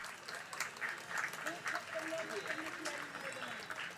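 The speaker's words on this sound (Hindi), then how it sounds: "आप लोग सभी जोरदार तालियों से हाँ स्वागत अभिनंदन करें" Audience applause welcoming a guest at a Q&A gathering with a Jain monk in Habibganj, Bhopal, a steady rustle of many hands clapping at moderate level, with some talk mixed in.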